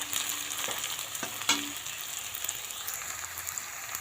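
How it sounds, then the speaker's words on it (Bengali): Onions crackle and sizzle steadily in hot oil, with a few scraping stirs from a utensil against the pan. "এখন পেঁয়াজটা ভেজে নিচ্ছি"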